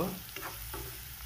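Ingredients for an egg potato curry, with turmeric powder just added, frying in a pan, a close, steady hiss with a few soft scraping stirs.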